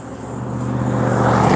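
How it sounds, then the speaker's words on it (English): A loud truck engine runs steadily close by, a deep rumble that swells slightly louder toward the end, with no talking. "Ooh, your truck is loud."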